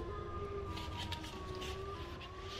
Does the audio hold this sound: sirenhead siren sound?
yes